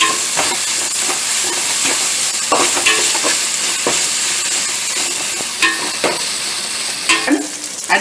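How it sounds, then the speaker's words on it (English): Ginger garlic paste sautéing in a pan for vegetable biriyani vermicelli makes a loud, continuous close sizzle, with repeated scraping stirs of a spatula against the pan and no talking. "we will saute it until the raw smell goes off"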